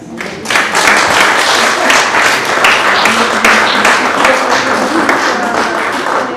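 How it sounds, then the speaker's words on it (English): A large audience claps for Dr. Julius Garvey after his talk, a dense, steady roar of many hands that stays loud and sustained throughout. "Can we give another round of applause for Dr. Garvey?"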